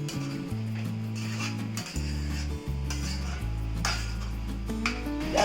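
Spoon scraping and stirring rice in a cooking pot, rasping rubbing strokes repeating close by over a steady background of held tones.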